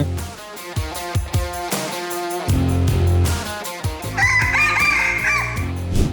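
Native-breed roosters crow loudly and repeatedly at a chicken contest held at the Mae Jo agricultural fair, with several overlapping cock-a-doodle-doos and some clucking nearby.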